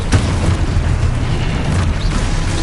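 A Confringo spell in the Hogwarts Legacy video game sets off a loud, booming fiery blast with a sharp burst at the start and a rumbling roll afterward.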